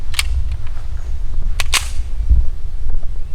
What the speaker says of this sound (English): So let's put some rounds through rock.